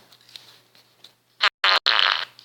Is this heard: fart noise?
yes